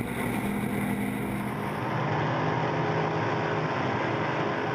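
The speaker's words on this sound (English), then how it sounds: "You'll hear the revs start to build" Powerful drag racing car engines roar and build in pitch, a loud, continuous mechanical howl with a sharp change partway through.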